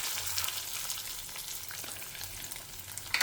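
Fenugreek, asafoetida, urad dal, dried red chillies and copra roast in a pot, giving a continuous dry crackling sizzle that stays even and close with a low hum beneath.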